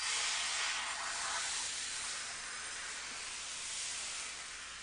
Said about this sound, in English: This pan's getting a little hot. I can hear it sizzling when it's hitting.